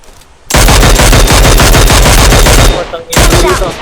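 Loud, rapid automatic gunfire rattles in a video game, a sustained burst of about two seconds, then a short pause before more shots resume.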